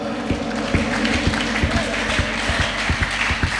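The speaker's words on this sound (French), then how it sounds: "Acclame pour la gloire de Dieu." A church congregation applauding and cheering for the glory of God, with dense clapping and rhythmic thumping beats over a continuous loud crowd roar.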